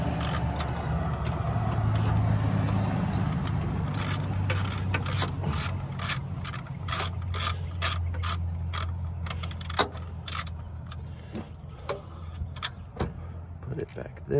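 Quick clicking ratchet strokes from a socket wrench removing a vacuum hose bracket during a car turbo intake pipe job come in bursts, close up, over a low steady hum and occasional talk.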